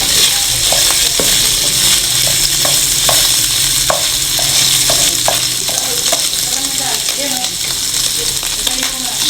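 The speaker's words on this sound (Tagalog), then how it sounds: "nagmantika na ang ating pork" Pork sizzles loudly in its own rendered fat for Filipino menudo, a constant close crackle broken by repeated clicks and scrapes of a utensil stirring against the pan.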